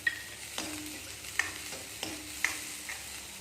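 Mustard seeds and chana dal tempering in hot oil in a pan, a soft steady sizzle with a few light stirring clicks and scrapes, heard close and without talk.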